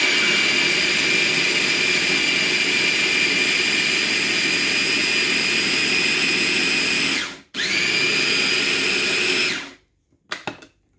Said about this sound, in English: So we're going to grind now.